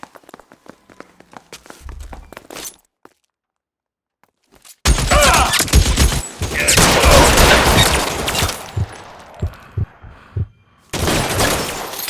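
Gunfire erupts in the LA Noire video game during an LAPD shootout: scattered sharp shots and a few quiet clicks, then a gap, then a long, loud, dense barrage of rapid fire that breaks off and returns in a final burst.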